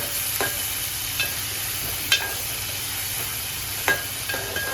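Chopped tomatoes fry in hot oil in a pan while cooking a spicy prawn curry, giving a steady loud sizzling hiss, with a few soft clinks from stirring and no voices.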